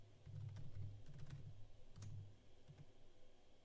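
Typing on a computer keyboard: a fast run of soft, close key clicks with irregular rhythm and short pauses, quiet overall with no talking.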